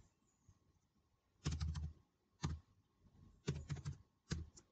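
Quiet bursts of clicky keystrokes on a computer keyboard, a few quick clusters of taps separated by short pauses, close and alone in a still room.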